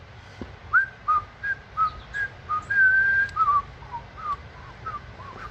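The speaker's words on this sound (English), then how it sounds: "he was whistling a tune" Someone whistles a simple melody, a series of short clear notes with one longer held tone, close and alone against a quiet background.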